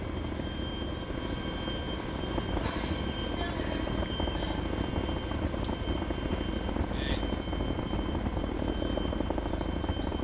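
A helicopter in the video game DayZ goes down in a crash, its steady rotor and engine drone filling the whole span at a constant loudness, with faint voices underneath.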